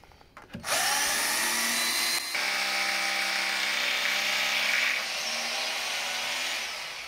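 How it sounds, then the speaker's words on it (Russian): Power drill running in a long continuous whine in a residential courtyard during outdoor construction work, loud and close, with a brief pitch change partway through. "Ты тут сверлишь, соседи сверлят."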